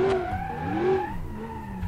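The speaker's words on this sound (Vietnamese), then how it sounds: "Các bạn nghe cái tiếng vô lăng của mình không?" A car in the BeamNG.drive driving simulator screeches its tires while steering hard, with a wavering, sliding squeal over a low engine drone and no talking.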